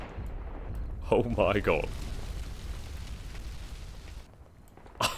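Excalibur artillery rounds bursting in Combat Mission Black Sea: a sharp explosive crack at the start and another near the end, with low rumbling between them and an excited voice exclaiming over the first impact.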